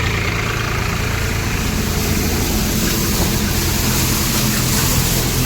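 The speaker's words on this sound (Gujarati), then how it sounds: "અને આ તો મિત્રો બહુ મોટું ટ્રેક્ટર છે." A very large farm tractor engine runs steadily nearby, a loud low rumbling drone that holds constant without pauses and with no talking over it.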